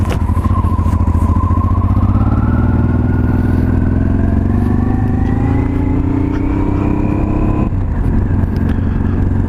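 A 1989 Honda Transalp XL600V motorcycle cruising through a country neighborhood, its V-twin engine loud and close, pitch climbing steadily as it accelerates before a shift near the end, with constant wind rumble.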